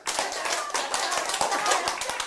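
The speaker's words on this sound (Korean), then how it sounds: "이 시점에서 박수 일곱 번 갑니다. 박수 일곱 번 시작!" A room full of people at a laughter therapy show claps seven times in a quick, roughly unison rhythm, with sharp repeated hand strikes running for a couple of seconds.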